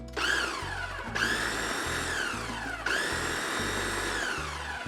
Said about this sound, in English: lock this back down for a quick pulse or 2